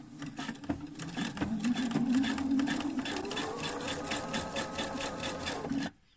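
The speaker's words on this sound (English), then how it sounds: "I'm just going to sew very carefully, very gently, making sure that that seam allowance is pressed to that side the whole way down." A sewing machine stitches a skirt seam in a steady, fast run of rhythmic needle clatter and motor hum, close and continuous for several seconds before stopping abruptly.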